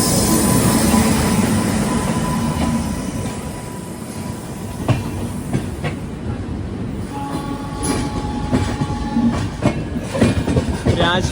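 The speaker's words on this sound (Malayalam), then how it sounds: "രാജമുണ്ട്രി റെയിൽവേ സ്റ്റേഷനിലേക്ക് ഇതാ എത്തുകയാണ്" Humsafar Express arriving at Rajahmundry railway station, its wheels rumbling and clattering steadily with brief metallic squeals and a faint horn note, loud and close throughout with no talk.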